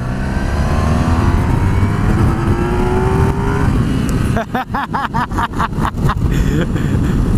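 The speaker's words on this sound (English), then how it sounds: "I'm going to go full throttle from 2000 RPM, ready, full throttle." Honda VFR1200X motorcycle engine at full throttle from 2000 RPM, loud and close with a steady rising rev, then a rapid series of gear-change bursts.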